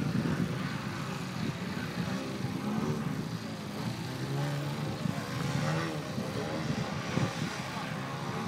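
Airplanes roaring through a display at an air show in Argelès, a loud continuous engine drone that swells and fades as the aircraft pass, with commentary audible underneath.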